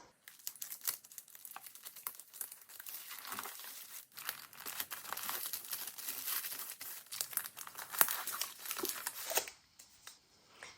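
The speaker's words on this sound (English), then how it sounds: "Crumple that up a little bit, add some wrinkles." Painter's tape being crumpled and wrinkled by hand, a continuous crinkling, crackling rustle close to the mic that runs for about ten seconds before stopping abruptly, with no one talking.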